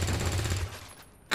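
Rapid game gunfire from XCOM 2, a dense burst of repeated shots with low thumping punches for most of the moment, then a short lull and one more sharp crack at the end.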